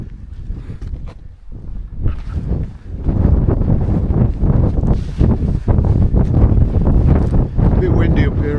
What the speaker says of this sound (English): A bit windy up here as well.